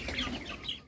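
Broiler chickens on a meat-chicken farm cluck in a dense, continuous chorus, several birds overlapping at close range with no pauses.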